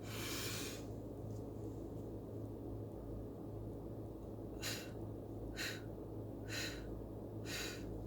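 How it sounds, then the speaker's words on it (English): Deep breaths blown out during a guided breathing exercise: one longer exhale, then four short, evenly spaced blows, faint against a steady low background hum. "let's take a deep breath in and blow it out"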